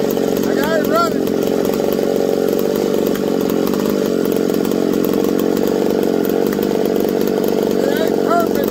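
A McCulloch 101B race chainsaw engine runs steadily and loudly up close, with a continuous raspy two-stroke drone and no break for the whole stretch.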